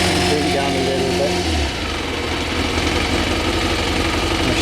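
A Kawasaki Z motorcycle engine runs on choke, close and steady, with a throbbing fast idle that drops lower partway through as it is brought down. Someone talks over it.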